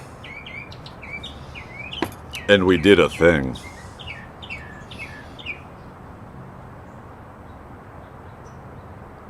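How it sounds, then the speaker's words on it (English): A pet bird chirps in short, repeated high tweets across the clip, moderately close, while a person briefly talks in the middle; the chirps continue faintly afterward. "The bird was chirping."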